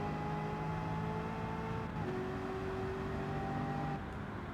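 Race car engines in Gran Turismo 7 drone steadily at high pitch, with a brief shift in engine note partway through, a continuous loud whine and no talking.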